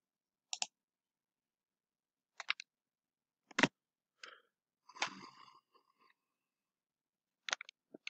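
Computer mouse clicks, a few sharp isolated taps spaced across a quiet stretch, close and clear with no talking.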